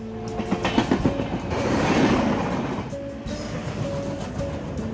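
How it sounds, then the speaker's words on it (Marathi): A Mumbai local train rolls past close by, wheels clattering rhythmically over rail joints, with a rushing swell in the middle and a faint squeal toward the end. "रेल्वेच्या चाकांमुळे निर्माण होणारा आवाज"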